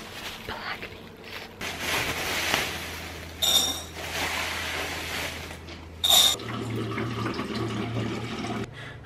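Water runs from a kitchen tap to soak black beans, a steady hiss with occasional clinks and knocks of a container, plus a couple of short bright chimes.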